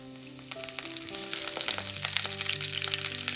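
Curry leaves dropped into hot oil with frying urad dal, a loud close crackling sizzle with sharp pops, while music plays underneath and no one speaks.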